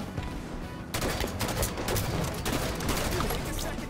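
Battle rifle fire in the video game Halo 5, repeated loud bursts of shots in quick succession over constant game noise.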